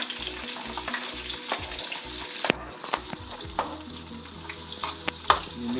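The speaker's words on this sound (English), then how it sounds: "once your olive oil is hot and ready to go, you need to saute the onions and then garlic" Onions sizzle in hot olive oil for lumpia filling, a steady close frying crackle with a rhythmic low thumping early on. The sizzle continues under occasional stirring scrapes.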